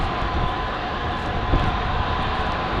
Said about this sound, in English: We're launching jets.